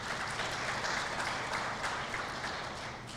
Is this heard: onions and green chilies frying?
no